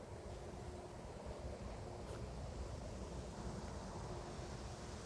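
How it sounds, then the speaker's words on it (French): Wind blows outdoors in a low, steady rumble buffeting the microphone, fairly faint and continuous with no speech. "avec un peu de vent."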